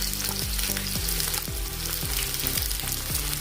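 Asafoetida (hing) spits and sizzles in hot oil with a steady, dense crackle, punctuated by repeated low scraping knocks of a spoon stirring the pan, close and loud with no talking.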